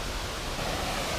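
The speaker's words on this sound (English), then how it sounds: "This fall over here looks pretty sick." A waterfall in Shenandoah National Park, heard as a dense, steady roar of falling water filling the brief moment, close and unbroken, with no voices.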